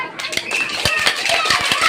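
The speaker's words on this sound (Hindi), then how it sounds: "आप जोर से ताली बजा दीजिए" A workshop audience claps hard together, a dense, loud patter of many hands up close that runs without a break, with some voices mixed in.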